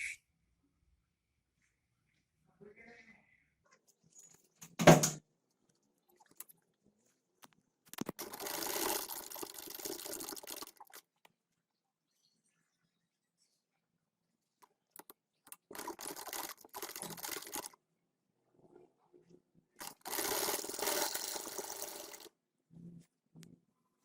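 A sewing machine runs in three short whirring bursts as it stitches a folded trouser waistband, close up, separated by quiet pauses and small clicks of handling, with no voices.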